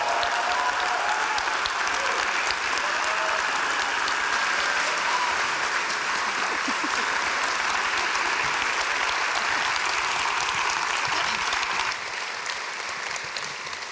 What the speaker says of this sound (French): je vous demande d'applaudir Madame Alice Underouf